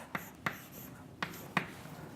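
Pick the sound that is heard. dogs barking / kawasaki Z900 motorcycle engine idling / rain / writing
writing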